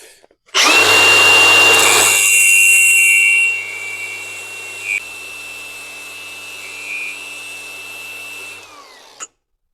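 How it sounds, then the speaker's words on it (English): Bench grinder with a fine-grit wheel grinding metal while shaping a Woodruff key for a 50cc quad, a loud steady whine that starts abruptly, eases to a lower drone after a few seconds, and runs until it stops. "I'm going to opt to take this grind wheel over my big grind wheel just because it's a finer course"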